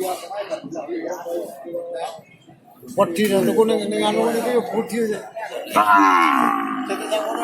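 Cattle low in drawn-out calls amid busy noise at the Jatirogo cattle market in Tuban, East Java, with people talking nearby.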